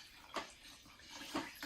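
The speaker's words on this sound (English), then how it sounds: "we're going to pour it now over the grapefruit peelings that I have here" Filtered water poured over grapefruit peelings in a kitchen: soft splashing and trickling, quiet and close, with two brief stronger gushes.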